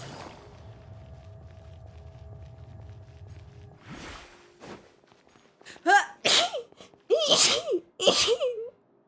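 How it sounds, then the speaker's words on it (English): A series of loud, close sneezes, several in quick succession near the end, following quieter rustling and a sharp intake of breath. "I've been sneezing a lot"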